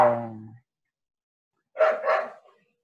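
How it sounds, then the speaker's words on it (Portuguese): A dog barks at home during a live online lesson, two bursts: a loud harmonic bark at the start, then after a pause a second rough double bark, fairly close. "Meu cachorro tá latindo."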